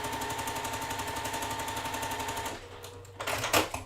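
A sewing machine stitches quilt fabric pieces cut as quarter square triangles, running in a steady rapid rhythm close by for over two seconds, then stopping, followed by a few brief clicks and handling sounds.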